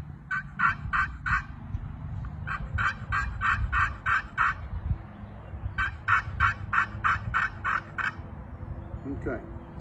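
A hand-worked turkey call produces rapid series of raspy hen yelps in several bursts, each string of notes quick and evenly spaced, with low background noise.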